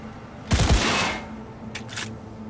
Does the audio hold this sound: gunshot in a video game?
yes